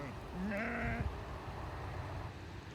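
A single lamb bleats once, a short wavering call in the middle distance, over a steady outdoor background rumble on a hay farm.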